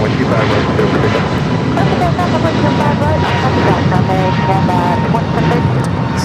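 An airliner taking off from runway 25 right at LAX, a loud continuous jet engine roar heard from outside, with a radio voice and people talking under it.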